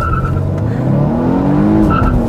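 A Volvo S60 T8 Polestar Engineered hybrid in sport mode launches hard from standstill, its engine note rising quickly and sweeping upward through gears over tire noise, loud and close.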